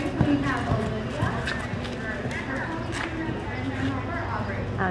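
Horse hooves clop steadily on the ground of a county fair show ring, a draft horse among the entrants, heard as a soft repeated rhythm while a voice talks over it continuously.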